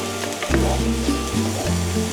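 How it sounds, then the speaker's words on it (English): Carrots frying in a pan while being stirred, a soft continuous sizzle with a few scraping strokes of the utensil, close and fairly quiet, no talking. "you're just going to give them a good little stir around until they're softened off"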